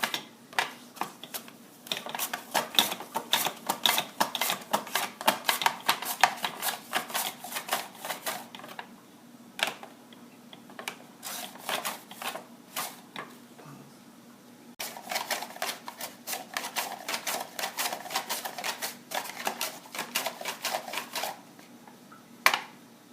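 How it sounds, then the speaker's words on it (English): Rapid clicking chops of potatoes being sliced paper thin on a hand slicer, coming in quick rhythmic bursts with short pauses between runs, close and fairly crisp. "But look how fast these potatoes get cut."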